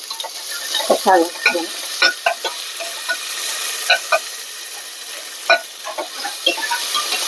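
Ivy gourd (dondakaya) frying in a pan, a bright crackling sizzle broken by frequent clattering stirs of the spatula, close and moderately loud.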